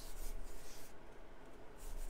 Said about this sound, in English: I'm going to grab a small squeegee